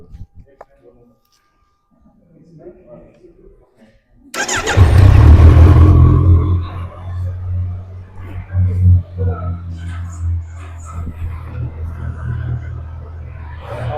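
A superbike engine bursts into life after a quiet start, roaring loudly up close, then settling into a rumbling idle with a few throttle blips, while people talk nearby.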